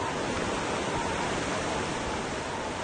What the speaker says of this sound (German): Im Wald, da rauscht der Wasserfall.